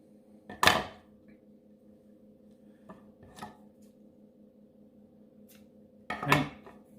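Trimming excess material off a bigger breaker bead with a fancy eye, two sharp snips about six seconds apart with faint small clicks between them over a steady low hum.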